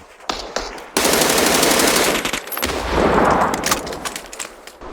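Automatic gunfire rattles in the PUBG video game, loud and close. A brief burst is followed by long sustained volleys that barely pause, with no speech over them.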